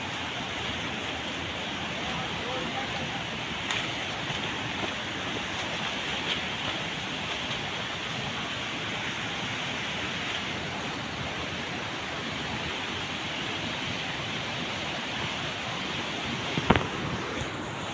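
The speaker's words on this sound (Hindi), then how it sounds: "आमर वाटरफॉल आसी पहुँची गलु आमर वाटरफॉल जगह को" Rushing water at the Kurmingia waterfall in Kandhamal, Odisha: a steady, broadband roar that fills the scene evenly throughout, with a few faint knocks. No clear speech.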